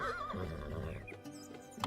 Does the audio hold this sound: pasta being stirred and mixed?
no